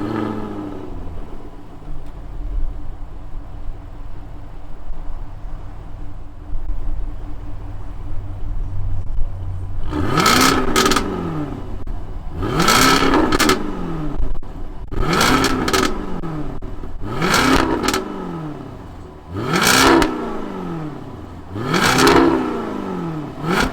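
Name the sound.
supercharged 2021 Jaguar F-Type R engine revving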